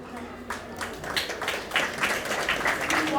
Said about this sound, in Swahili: tuwashukuru walimu wetu kwa kazi waliofanya, tuwapigie makofi